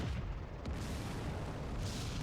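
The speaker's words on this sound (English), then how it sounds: "it's a 75mm cannon and it sounds like a 40mm pea shooter" The 75mm cannon of a Vickers Medium Mk.II tank fires in World of Tanks, a dense roaring blast that fills the short clip at steady loudness.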